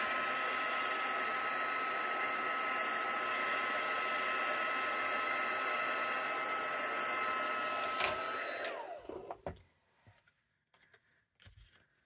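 Handheld heat tool drying ink on a craft background, a loud steady blowing whoosh up close that cuts off, followed by a few faint clicks and taps.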